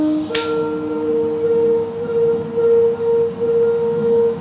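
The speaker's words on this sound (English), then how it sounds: "Yes, the trumpets are playing." Brass trumpets hold long, steady fanfare notes at a fairly loud level, a victory call with a brief sharp burst near the start and little change throughout.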